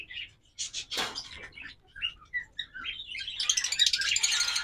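A pair of green fisher opaline pet birds gives quick high chirps and tweets, scattered then building into a denser twittering near the end, faint and close with no talk.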